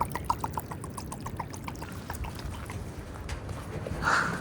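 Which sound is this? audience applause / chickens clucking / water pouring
water pouring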